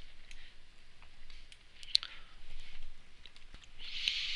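Computer mouse clicks while item bubbles are placed on a design in IRONCAD CAD software: a quiet scattered series of light, sharp ticks over a faint hiss, with one louder click partway through.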